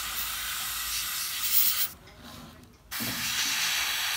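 An airbrush sprays paint onto a MikroMir K-class model submarine, giving a close, steady airy hiss that cuts out for about a second, then resumes at full strength.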